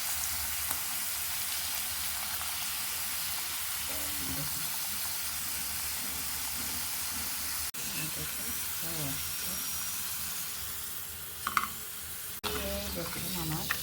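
Homemade potato chips deep frying in hot oil give a steady, broad sizzle throughout, with faint clinks and low mid sounds of handling partway, and a voice briefly audible near the end.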